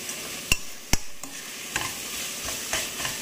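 Moringa leaves frying in a pan for a tomato curry, a few sharp scrapes of a spoon over a quiet, steady sizzle, close but fairly soft.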